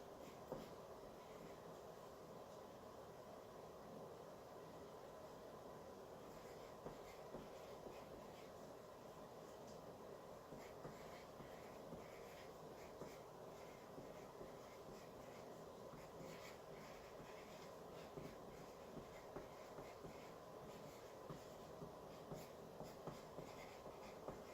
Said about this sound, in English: I'm going to write my client's name.